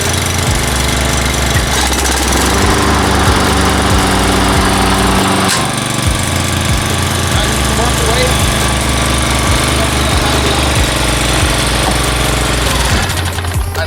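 Lawn mower engine idling with the blade clutch disengaged on gravel, a loud steady close-up drone with rapid knocking pulses that shifts pitch partway through, running throughout.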